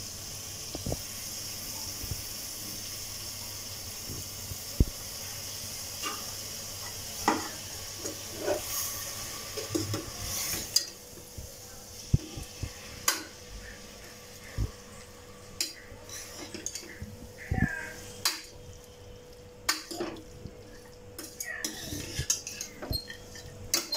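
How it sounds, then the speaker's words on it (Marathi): Goat intestine (vajri) for a vajri masala sizzles in a frying pan along with dal, with repeated clinks and scrapes of a spoon stirring against the pan over a steady low fry, no one speaking. "आता वजरी टाकायची आहे।"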